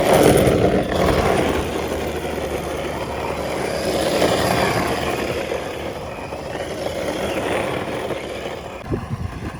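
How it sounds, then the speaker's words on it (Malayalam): Tyres of an RC Nissan GT-R R35 car fitted with hard drift wheels skid and hiss on a road surface, a steady rough scraping noise that lasts throughout with no talking. "ഈ റോഡിൽ ഓടിക്കുമ്പോൾ എൻ്റെ ടയറിൻ്റെ സൗണ്ട് കേട്ടോ."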